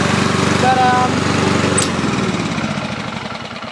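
A 2011 Lawn-Boy lawn mower's small engine runs steadily up close, its loud buzzing drone holding throughout and easing slightly toward the end, with a person speaking over it.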